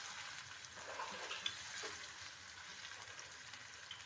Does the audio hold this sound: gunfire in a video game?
no